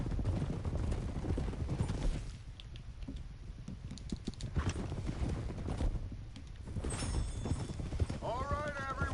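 Horses trotting in Red Dead Redemption 2, a steady clip-clop of hooves running through the scene under game music and voices, with a brief whinny near the end.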